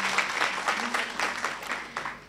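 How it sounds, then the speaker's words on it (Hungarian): A school-ceremony audience at a vocational school claps fairly softly and unevenly, with individual claps standing out in a loose, slightly pulsing rhythm. "egy tapsot ő is megérdemli."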